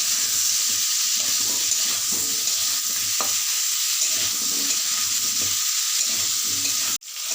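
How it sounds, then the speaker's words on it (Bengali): Potatoes fry in hot oil with a little turmeric, giving a steady close sizzle with occasional stirring scrapes that stops abruptly near the end. "আর অল্প একটু হলুদ গুঁড়ো দিয়ে আলুটাকে ভেজে নেব।"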